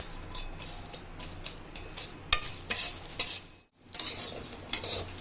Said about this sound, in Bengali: এরপর ভেজে নেব দারচিনিটা।